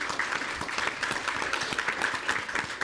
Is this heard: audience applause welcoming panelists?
yes